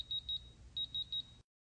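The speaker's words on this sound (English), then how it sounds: "the lock emits two sets of three beeps," A Digilock electronic lock sounds its low battery warning, two sets of three short, clear, high-pitched beeps with a brief gap between the sets, close and alone.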